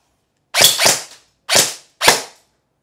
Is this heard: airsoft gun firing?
yes